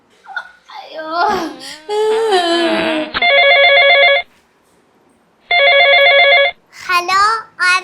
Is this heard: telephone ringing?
yes